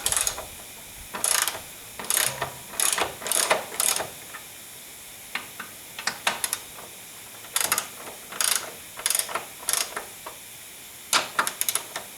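Ratchet wrench loosening bolts on a BMW rear trailing arm during a bush replacement, heard as repeated bursts of fast metallic clicking with short pauses between strokes, close and fairly loud with no talking.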